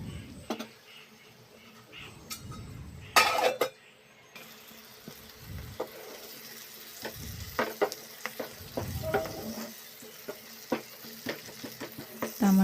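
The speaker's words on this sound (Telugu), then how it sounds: "తర్వాత టమాటాలు అందులో వేసి బాగా ఫ్రై చేసుకోవాలి" Tomatoes fry in oil with turmeric and salt in a pan for a prawn stew, a soft sizzle broken by repeated spoon scrapes and clicks against the pan, irregular and close.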